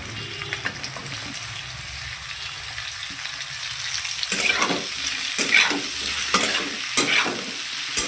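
Onion and vegetables frying in a pan for a Rajasthani dish: a steady bright sizzle, with a string of louder stirring scrapes and clatters toward the end.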